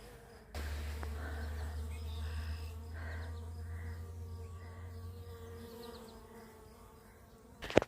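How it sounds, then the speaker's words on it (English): Bees buzz steadily around a hive box with a swarm nearby, a close, sustained drone that fades slightly toward the end, with a few birds calling in the background. "There are still bees coming and going."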